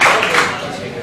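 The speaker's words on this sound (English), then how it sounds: "Buzz, Derek, and Rick, they deserve a big round of applause for coming up here" An audience at a comedy roast in a Richmond, Virginia club gives a brief burst of clapping and applause that fades within a second.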